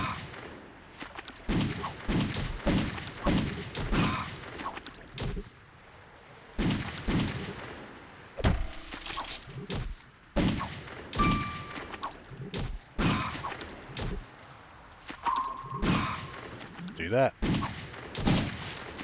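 Rapid gunshots ring out in the Moorhuhn Pirates shooting gallery game, a long run of sharp, evenly repeated shots with clangs and dings, heard under a player's talk.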